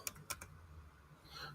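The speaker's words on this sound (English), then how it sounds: "I also want to get back to the typing, so I wasn't done typing the story" Quick keystrokes on a computer keyboard, a few sharp clicks close together at the start, then quiet room tone with a faint hum.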